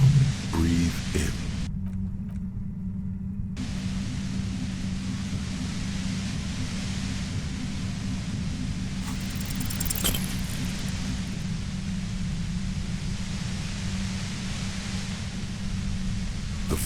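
Low, steady violet-white noise hums near a compressor in the video game Disco Elysium, a constant droning rumble with a brief metallic jangle near the start and faint crackles later.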